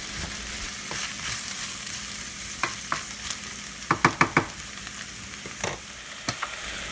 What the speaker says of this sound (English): these ingredients have been simmering on the stove top over a medium heat for about 5 to 6 minutes